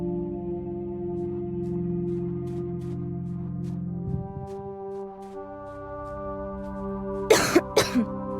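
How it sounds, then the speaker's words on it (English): A character in the video game Torn Away gives two short, harsh coughs near the end, after a long stretch of low, droning music. "I don't like the sound of your cough."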